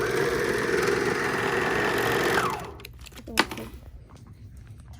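A serger sewing machine runs steadily at close range with a fast, even mechanical whir for about two and a half seconds, then winds down and stops, leaving quiet handling noises and one sharp click.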